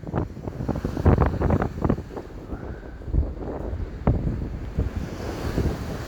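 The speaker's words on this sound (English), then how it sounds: "I'm holding my phone with 2 hands here because it's that windy." Strong wind and waves on the Blackpool promenade in freezing rain: heavy gusts buffet the microphone in loud bursts, over a constant roar of surf crashing close by.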